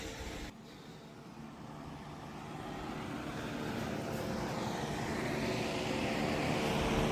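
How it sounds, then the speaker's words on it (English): In a hot garage beside a car being fitted with a Barra engine swap, a loud fan runs close by as a steady, broad whooshing roar that slowly grows louder, with no talking. "Forgive me if the fan's loud."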